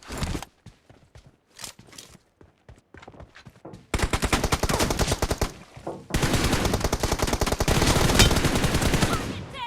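Gunfire from the video game PUBG rings out, starting as scattered single shots and short bursts, then breaking into dense, loud sustained automatic fire in the second half.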